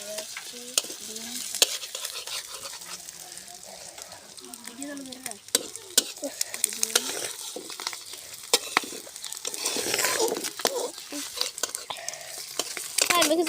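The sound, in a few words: egg frying in a pan, being flipped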